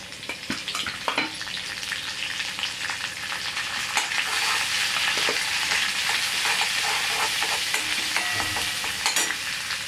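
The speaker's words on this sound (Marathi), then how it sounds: "तेल तापून गेलं आहे त्यात आपण घालूया आता जिरे आले लसूण पेस्ट कढीपत्ता" Cumin, ginger-garlic paste and curry leaves hit hot oil in a pan for vada rassa, giving a loud, continuous sizzle and crackle with scattered pops and stirring scrapes throughout, no voices.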